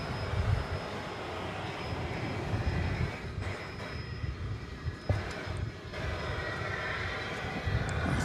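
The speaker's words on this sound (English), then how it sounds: "Got American Flight 80 coming into view here. This 777-300ER is on its way to London Heathrow Airport." An American Airlines Boeing 777-300ER bound for London Heathrow flies over near DFW Airport, its engines a steady, broad distant roar with a faint whine, heard alone.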